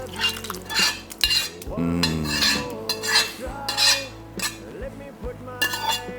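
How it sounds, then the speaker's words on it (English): A spoon stirs crawfish mixture into potatoes in a bowl for crawfish boulettes, giving close, steady scraping and scooping with occasional clinks of utensil on the bowl, and no talking. "So we're gonna add our crawfish mixture to our potatoes, chef."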